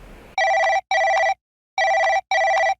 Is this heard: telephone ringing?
yes